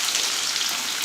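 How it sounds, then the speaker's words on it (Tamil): Mustard seeds, urad dal and cumin splutter in hot oil with a dense, even crackle like fine rain. The sound is close and lasts about a second. "கடுகுளுந்து சீரகம் நல்லா பொரியட்டும்."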